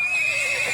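A horse harnessed to a tanga cart lets out a sharp, shrill neigh, loud and close, lasting under a second.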